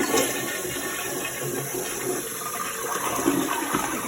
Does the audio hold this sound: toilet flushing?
yes